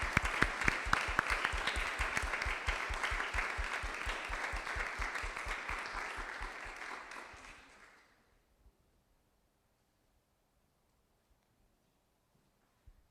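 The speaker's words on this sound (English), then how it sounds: "So if you'd give a round of applause." Audience applause at a workshop session, a dense, steady round of clapping that continues for several seconds, then fades out into near silence.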